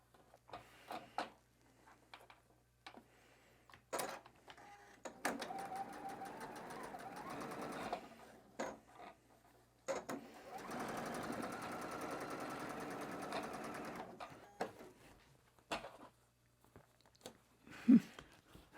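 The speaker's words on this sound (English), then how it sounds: "begin stitching together the 2 blocks" Sewing machine joining two batik quilt blocks along matched seams, two short bursts of fast stitching at moderate level, separated and surrounded by handling clicks and fabric rustles in a quiet room.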